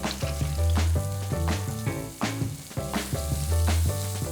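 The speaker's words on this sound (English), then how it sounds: "I'm gonna finish frying up this fish and get ready for this dinner." Cornmeal-crusted catfish fillets fry in oil heated to 375 degrees, giving a steady close sizzle with bursts of crackling and popping as pieces settle in the pan, heard alone without talk.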